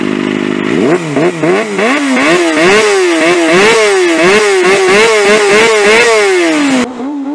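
A small 250cc four-cylinder motorcycle engine revs hard and close, its pitch climbing and dropping in repeated bursts, a high-strung multi-cylinder whine with no one speaking.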